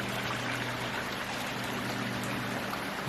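Steady rushing and splashing of water from a small waterfall in a fern-lined creek, constant broadband flow filling the whole clip with no voices.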